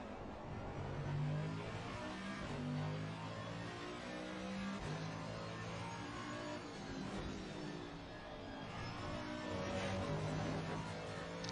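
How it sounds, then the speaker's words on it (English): A Bentley race car's engine in a sim racing game holds a steady, close drone, rising and falling with throttle over the whole stretch, with no voices. "he is driving the Bentley"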